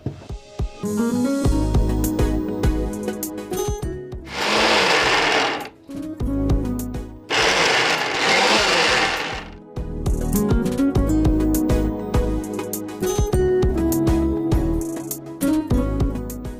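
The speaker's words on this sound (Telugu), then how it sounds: "ఇది ఒక్కసారి కచ్చా పచ్చగా మిక్సీ పట్టుకుందాం అండి" A mixer grinder coarsely grinds soaked black-eyed beans in loud bursts, its motor whirring and rattling, with two harsher grinding surges in the middle; brief pauses separate the runs.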